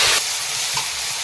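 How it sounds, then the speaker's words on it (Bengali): Meat frying in hot oil in a wok at an outdoor picnic cookout, a steady close broadband sizzle and hiss with no voices. "কড়ায় তেল দিয়ে দেব মাংসটা এবার চাপাবো"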